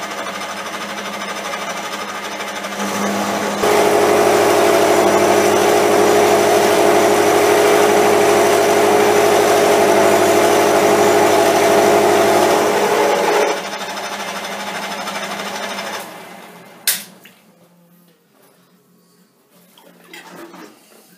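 A milling machine runs a roughing cutter at 700 rpm with a loud, steady mechanical whine and rattle for about ten seconds. It then winds down, followed by a sharp clink and quiet shop sounds.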